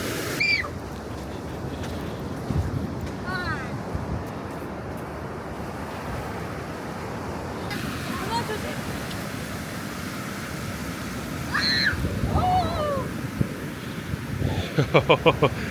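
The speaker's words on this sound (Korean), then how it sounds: "왜 센 파도가 안 나오냐?" Waves breaking along the East Sea shore with steady surf and wind noise on the microphone, a few louder swells surging near the end, while a family chatters and shouts excitedly over the water.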